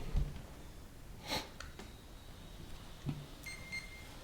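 Faint short electronic beeps chirp a few times from a Dynamite ESC starting up in a Losi 1/10 Tenacity brushless RC truck, over quiet background with soft breathy noises, no talking.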